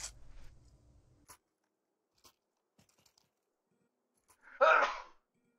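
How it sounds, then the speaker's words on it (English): A single hard, forceful human sneeze bursts out near the end, loud and close, after a stretch of near silence with a few faint clicks from a Counter-Strike 2 match. "gotta sneeze real hard now"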